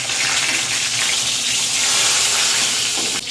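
Cumin seeds and bay leaves hit hot oil left over from frying duck eggs and potatoes, making a loud, steady, close hiss and crackle throughout, with no talking.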